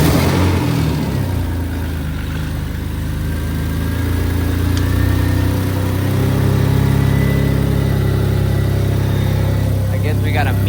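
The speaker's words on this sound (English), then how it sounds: "We're gonna do the first startup now." A Nissan Maxima engine on its first startup after restoration runs steadily at idle, a loud low rumble throughout with rougher texture from an exhaust leak, no pauses.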